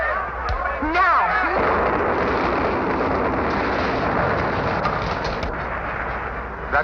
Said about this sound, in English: That cannon gets louder every year.